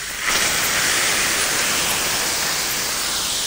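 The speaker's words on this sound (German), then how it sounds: "Und jetzt geht es ans Flambieren." Cognac poured over vanilla ice cream and set alight in a kitchen, heard as a steady loud rushing hiss that swells in after a brief quiet start and holds without talk.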